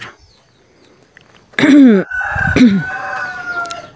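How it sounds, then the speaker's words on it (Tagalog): A rooster crows loudly nearby, two long calls back to back, with chickens clucking faintly around it in an open outdoor setting. "daming manok"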